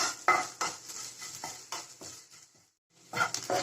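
Grated coconut and flattened rice being fried and stirred in a pan, repeated close scraping and clinking of a spoon against the pan in uneven bursts with a soft sizzle and a brief pause near the end.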